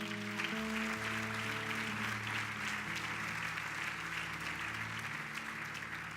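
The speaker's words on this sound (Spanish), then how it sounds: "Dale un aplauso al Señor." Congregation applauding during a church sermon, a dense steady clapping wash sustained throughout while sustained musical tones, likely organ or keyboard, play underneath.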